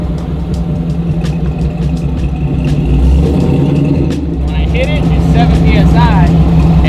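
An LSA-swapped 1987 Monte Carlo SS engine revs under boost, a loud continuous roar that builds in the middle, with people talking over it.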